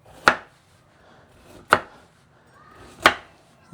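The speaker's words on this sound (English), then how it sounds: "The carrots, you can chop them the way you want" A knife chops carrots on a board in three sharp, evenly spaced strikes, close and crisp, each followed by a brief quiet gap.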